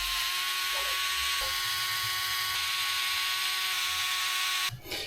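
A small powered driver whines steadily as it backs four screws out of the outer portal cover on a Redcat Ascent 18 RC crawler. Faint clicks tick through the motor tone, and a brief louder burst comes at the end.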